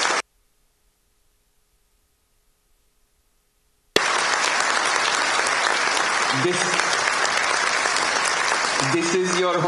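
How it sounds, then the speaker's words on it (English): A brief burst at the start gives way to silence, then loud, sustained audience applause for a Korean delegation breaks out, with a few voices and cheers rising toward the end. "Can the members of the Korean delegation please stand up so that we can give you applause?"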